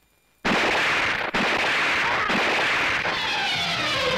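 Pistol gunshots in a film scene break a near silence with a sudden loud blast, followed by dense, sustained crackling and a few sharp repeat reports, ringing on with whistling tones toward the end.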